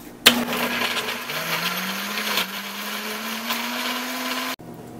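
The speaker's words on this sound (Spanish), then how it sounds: "Y ahora voy a licuar" A blender whirs chili sauce with spices and vinegar. It starts abruptly, its motor pitch rising steadily as it runs loud and close for about four seconds, then cuts off sharply.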